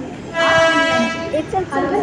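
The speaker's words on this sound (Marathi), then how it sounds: "चला आली आता आपली पण ट्रेन आली आहे." A local commuter train bound for Panvel pulls into platform 3 on an urban line: a steady rumble with sustained horn-like tones, while people talk nearby over the station noise.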